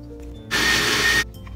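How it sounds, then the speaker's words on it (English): Sliced carrot, sweet pumpkin and spinach being blitzed in an electric grinder: a single loud, close whirring burst of under a second that starts and stops abruptly against a quiet background. "Grind the carrot, sweet pumpkin, and spinach in a grinder."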